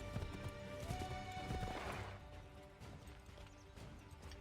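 Horse hooves clip-clop steadily with a whinny partway through, in the video game Assassin's Creed 3, set against game music and ambient noise.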